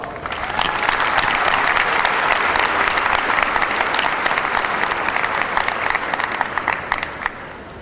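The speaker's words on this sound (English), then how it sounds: "Students, please give your parents and teachers a round of applause." A high school graduation audience breaks into sustained, dense applause that fills the hall with steady clapping, tapering slightly toward the end.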